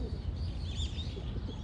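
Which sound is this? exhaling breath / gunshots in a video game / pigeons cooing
pigeons cooing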